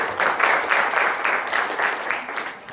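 An audience at a youth inspiration talk claps in a rhythmic, pulsing burst, fairly close and loud, fading slightly toward the end.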